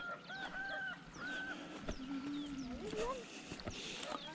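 Ducks on a rural trail near Sapa, Vietnam, honk and quack in short repeated calls at moderate distance, with people talking throughout.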